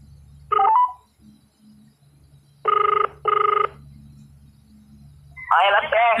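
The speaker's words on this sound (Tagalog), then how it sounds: "Tawagan natin ulit." A phone call is redialed, and the line gives off electronic ringing tones: a single short tone, then a paired double burst, then a voice over the line near the end.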